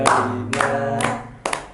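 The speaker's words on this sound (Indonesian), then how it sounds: "Oke, yuk kita tepuk tangan ya bertiga ya" Three people clap their hands during a group counseling session, a few sharp, distinct claps ringing out over sustained singing voices.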